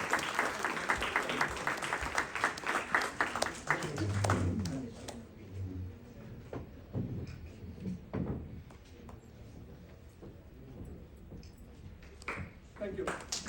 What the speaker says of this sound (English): Round of applause for Tata Motors as well as Mr.